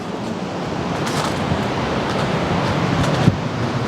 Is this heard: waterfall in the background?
yes